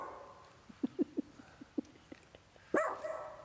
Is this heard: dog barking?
yes